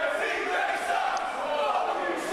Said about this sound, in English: the crowd making themselves very, very well known that they're not a fan of CJ Carter here